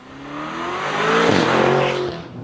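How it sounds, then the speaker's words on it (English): A Lamborghini Urus in Corsa mode on the road, its engine rising in a strong, close rev and accelerating roar that swells then eases slightly, with no speech over it. "We'll put this thing here, the Lamborghini Urus, in the Corsa mode."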